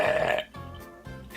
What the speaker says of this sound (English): If I hear one more belch like that, where you just let it rip